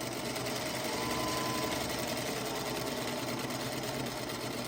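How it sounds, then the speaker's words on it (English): A sewing machine stitches steadily along a marked circle line, a close, continuous rapid whirring hum with no pauses and no talking. "I just simply sew right exactly on the line."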